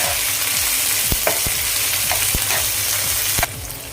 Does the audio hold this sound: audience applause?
no